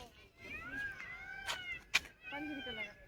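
A cat meows several times, drawn-out wavering cries with a couple of sharp clicks in between, fairly close against a quiet background.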